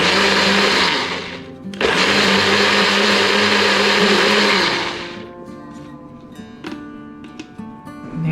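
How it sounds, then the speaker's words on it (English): Countertop blender whirring through a yogurt and half-and-half sauce in two loud bursts, a brief pause between them, then spinning down to quiet background noise. "Now we're gonna give this a quick whirl, pulse it a time or two"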